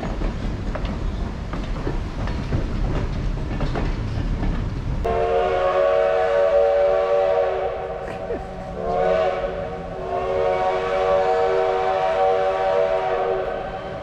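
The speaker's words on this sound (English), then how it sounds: "So Fred's on the train" A train rumbles and clatters past, then a steam whistle blows in long sustained blasts, sounding again in a second burst over the continuing rail noise.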